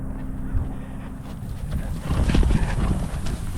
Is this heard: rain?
no